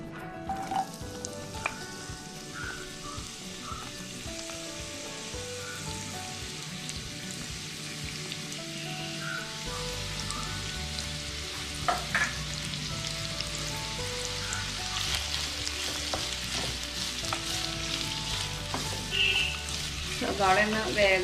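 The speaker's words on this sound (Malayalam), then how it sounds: "എണ്ണ ചൂടായി. പിന്നെ സവാള അരിഞ്ഞ് വെച്ച് നമ്മൾ ഇതിലോട്ട് ചേർക്കാൻ പോവാം." Sliced onions fry in hot oil for a Kerala-style squid roast: a soft hiss swells into a fuller, louder sizzle with scattered pops and stirring sounds, while a person talks at times.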